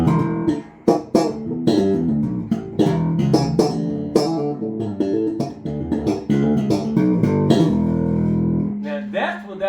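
Electric bass guitar, a Bootsy Bass 5, runs through a stack of effects pedals all switched on, giving a thick processed funk line of punchy plucked notes that ends on a sustained tone, loud and close with no talking.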